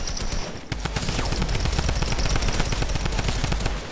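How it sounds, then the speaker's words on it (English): Drum gun firing in a video game, a sustained rapid burst of automatic gunfire that runs loud and continuous for the whole span with no pauses. "I am going to get lasered by a drum gun."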